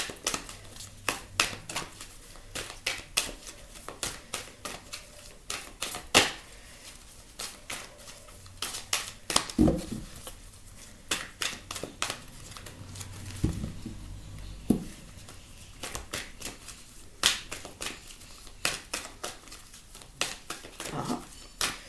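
Tarot cards shuffled and pulled from a deck, a long run of quick crisp riffles and flicks in irregular bursts, close and fairly loud with short pauses and a few soft handling thumps.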